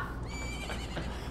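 A horse whinnies in The Legend of Zelda: Majora's Mask, a single drawn-out neigh with a falling pitch over steady game background sound, no talking.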